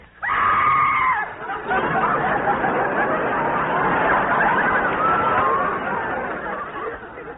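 A woman's shrill scream rings out in an old-time radio drama, followed by a long roar of studio audience laughter and murmuring that fills the rest of the moment.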